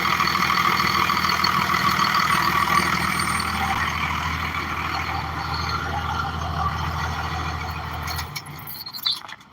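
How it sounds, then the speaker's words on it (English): A diesel truck engine runs steadily and close, a constant rumbling drone with a broad roar lasting several seconds before cutting off abruptly near the end, followed by faint rattles. "How'd that diesel truck sound, ladies and gentlemen?"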